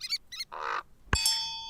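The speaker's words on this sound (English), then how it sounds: "These birds actually do make bird calls" Short bird calls from a digital birding board game: a pair of quick chirpy trills, a brief buzzy warble, then a sharp click followed by a ringing, sustained tonal note, all clear and close with no talking.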